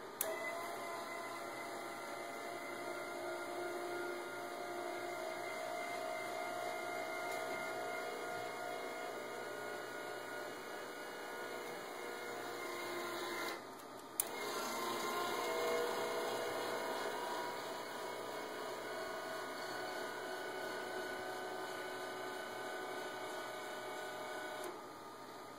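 Snow blower chute deflector linear actuator motor whirring steadily and fairly quietly for about half a minute, with a brief dip and restart partway through.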